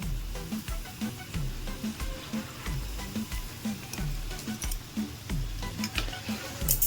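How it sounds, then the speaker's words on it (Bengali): Cabbage kofta balls frying in oil over low to medium heat, a soft bubbling sizzle with repeated light clicks and pops and a low rumble underneath, moderately quiet. "কোপ্তাগুলোকে ভালো করে লালচে করে ভেজে নিন"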